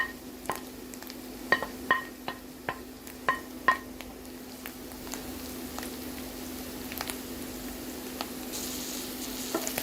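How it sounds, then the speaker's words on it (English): Cabbage and spring onion frying in a pan, with a steady soft sizzle and a run of sharp stirring clinks and taps over the first few seconds, then a quieter sizzle. "let's add frying our cabbage and spring onion"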